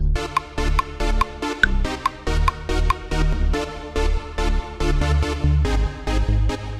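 A humorous boss battle theme for a clown fight plays with chords and a bass line in a bouncy, syncopated pattern, the notes stepping through short repeated phrases, loud and alone.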